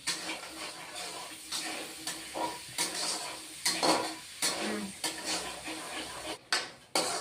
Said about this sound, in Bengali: তেলের মধ্যে ডালের বড়ি আমি এখন দিয়ে দেব ভেজে নেব বড়িগুলিও একটু এখন ভেজে নিচ্ছি